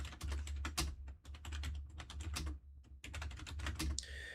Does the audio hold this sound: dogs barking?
no